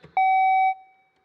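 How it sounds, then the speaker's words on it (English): A contestant's buzzer at a math competition countdown round gives one clean, loud electronic beep of about half a second that rings out briefly. "go ahead and test out your buzzer"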